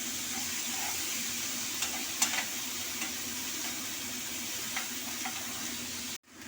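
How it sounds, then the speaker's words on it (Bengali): Paneer pieces fry lightly in a pan with a steady, soft sizzle, broken by a few faint clinks and stirring taps, until the sound cuts off abruptly near the end. "পনিরগুলিকে আমি একদম হালকা করে ফ্রাই করে নেব, বেশি ভাজবো না।"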